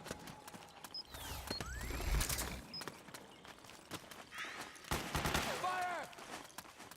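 Gunfire in Metal Gear Solid 4 crackles through a battle scene as bursts of shots and mechanical clatter, with shouted voices and swooping effects mixed in, moderately loud over several seconds.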